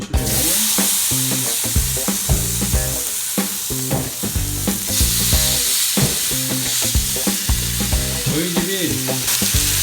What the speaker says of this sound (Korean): 미리 조금 구워 놓으려고 시작을 해보겠습니다. 소리 들어.